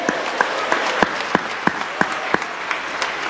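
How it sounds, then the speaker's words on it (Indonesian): Audience applause from an indoor sales seminar, a steady wash of clapping punctuated by regular, rhythmic louder claps, as though the crowd claps in unison. "Boleh tepuk tangan dulu yang meriah"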